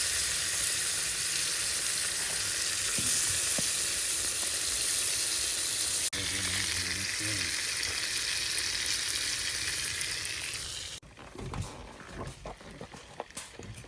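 Steak sizzles loudly and steadily in a pan with lemon butter at a cabin in the woods, a dense continuous crackle that thins near the end, where stirring clatter and a few brief knocks take over.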